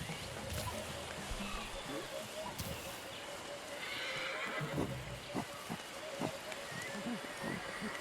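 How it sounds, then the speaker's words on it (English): A horse neighs and whinnies in the video game Ancestors: The Humankind Odyssey, with clip-clop hoof sounds and a background stream, while someone talks over it at moderate level. "African horse."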